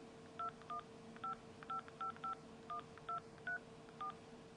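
Dial pad keys on an AT&T Quickfire phone beep out a string of about a dozen short DTMF tones in an irregular rhythm, close and clear over a faint steady hum.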